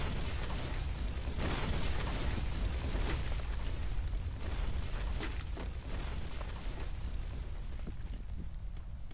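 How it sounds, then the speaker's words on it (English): Bombs pound down in a Free Fire battle royale match, a dense, continuous rumble of loud overlapping explosions and booms rolling through the whole stretch with no talk over it. "ooh, bombs will start to fly down"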